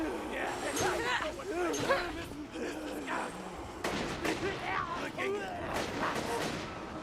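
Gunfire from enemies and the player in the shooter game Borderlands 2 cracks and booms in repeated bursts, sitting under nearly continuous talking throughout.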